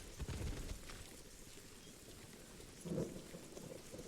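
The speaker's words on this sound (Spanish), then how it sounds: "Y con lluvia y todo." Faint, steady rainfall with a low rumble of distant thunder in the video game Call of Juarez: Gunslinger, soft and continuous without any talking.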